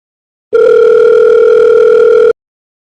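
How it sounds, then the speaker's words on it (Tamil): A telephone sounds a single steady electronic tone for nearly two seconds, loud and unbroken with a clear pitch and an overtone. No one talks over it. "ஓ மேடம் ஃபோனை அட்டன் பண்ண மாட்டீங்க."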